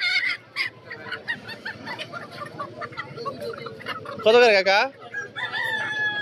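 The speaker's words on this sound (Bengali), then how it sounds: "দেখতে পাচ্ছি এখানেও কয়েকটা মুরগির বাচ্চা" Chickens at a rural poultry market selling ducks, hens and pigeons in Charigram: a rooster crows loudly near the end amid scattered clucks and clucking calls, while someone speaks briefly.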